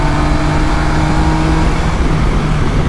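A Yamaha Niken GT three-wheeled motorcycle accelerates hard, its engine a loud, continuous close-up roar with a steady droning pitch for a few seconds.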